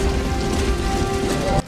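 Steady rain falls in a nighttime scene from the fantasy film In the Name of the King, a loud, dense, continuous hiss with a faint tone underneath that cuts off abruptly near the end.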